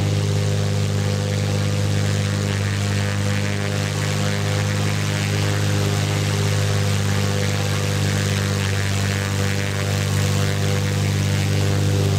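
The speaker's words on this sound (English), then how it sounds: "It's actually quite a fast plane" The propeller engine of a Carenado Cessna C185 bush plane in the X-Plane 10 flight simulator drones steadily and loudly, a constant low hum with strong harmonics and no talk.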